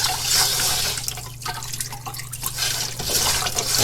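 Water trickles and drips through soil held in a sieve during a sieve analysis test, a steady close wash with small splashes and no voices.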